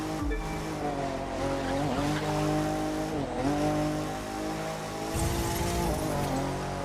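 Nissan 350Z Roadster in The Crew 2 racing game driving with a steady engine drone that shifts pitch, with tire squeal and skidding, loud and continuous with no talk.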